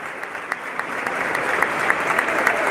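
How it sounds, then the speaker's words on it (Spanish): Home fans in a futsal arena at Estrella de Boedo applaud the visiting Unión de Ezpeleta side, a steady crowd clapping with scattered sharper claps, building slightly louder toward the end. "El aplauso de Estrella para el equipo de Unión de Espeleta."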